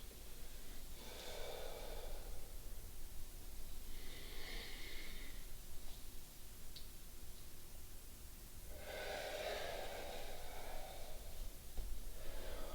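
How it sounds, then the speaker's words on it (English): Deep yoga breathing, slow audible inhales and exhales in several long breaths spaced a few seconds apart, close and soft over a quiet background hiss. "Exhale. Inhale up."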